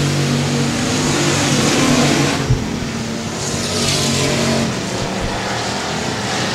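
Race cars charge down the back straightaway at Sabine Speedway, a loud continuous engine roar that rises and fades as the pack passes, with a brief thump partway through and no talking.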